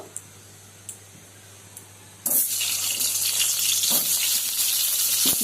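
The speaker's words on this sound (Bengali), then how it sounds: "এখন কড়াইয়ে তেল দিয়ে দিলাম, বেগুনটা ভেজে নেব।" Eggplant dropped into hot oil in a wok: a few faint ticks, then an abrupt burst into a loud, steady, close-up sizzle that continues to the end.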